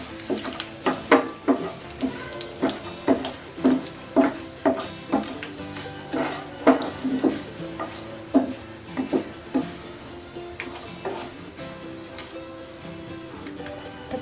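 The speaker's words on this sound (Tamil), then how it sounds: "3 வரமிளகாய் கட் பண்ணி பொடியாக போட்டுக்கலாம்." Chopped dried red chillies fry in a pan for idli upma, with a soft sizzle under a rhythmic series of scraping stirs and taps against the pan, close by and without talking.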